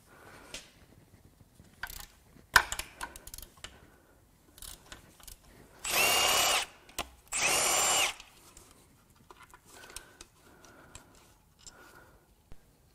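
A power tool buzzes in two loud, steady bursts of about two seconds each, loosening main cap bolts on a Honda J35 V6 engine during a teardown, with clinks and handling noises of tools and parts before and after.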